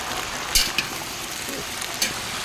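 A curry frying in a pan as turmeric is added gives a steady, close sizzle, with a few brief clinks and scrapes from stirring.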